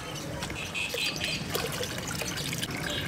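Clean water is poured into a container already holding warm water, producing a steady close trickle and splash that runs continuously throughout.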